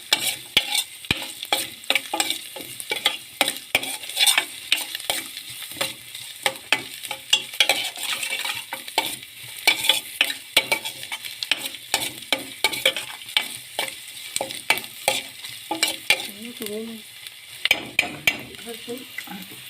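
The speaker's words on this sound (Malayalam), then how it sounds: "ഉള്ളി, നമ്മുടെ വെളുത്തുള്ളി, ചെറിയുള്ളി, ഇഞ്ചിയൊക്കെ നന്നായിട്ട് വഴന്നിട്ട് വരണം" Onion, garlic, shallots and ginger sautéing in a pan while being stirred continuously, a dense rapid train of close spatula scrapes and clicks over a steady sizzle, no talking.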